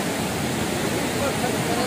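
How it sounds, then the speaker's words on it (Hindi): Tirathgarh waterfall pours down in a dense, continuous roar of rushing water, loud and unbroken. "यहाँ से पूरा वाटरफॉल बह करके नीचे जा रहा है"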